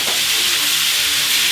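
Lamb pieces for mutton korma brown in a hot pan, giving a loud, close, continuous sizzle with a faint stirring scrape near the start.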